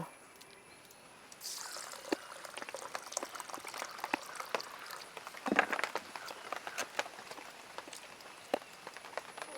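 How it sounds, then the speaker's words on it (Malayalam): Water pours and trickles over lentils being rinsed, with splashing and sloshing that builds midway and continues unevenly. "നമുക്കിനി പരിപ്പിനെ ഒന്ന് കഴുകിയെടുക്കണം"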